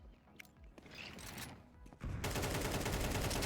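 Rapid sustained gunfire in a Counter-Strike 2 tournament match, a dense run of close shots that starts suddenly after quieter scuffles and continues loud to the end.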